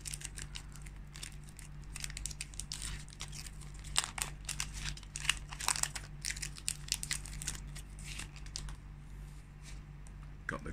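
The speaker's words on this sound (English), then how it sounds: "Next set, a bit difficult to open. I'm gonna just gently cut the top." Scissors cut the plastic wrapper of a Pokémon card booster pack, a string of faint, close crinkles and snips scattered through quiet.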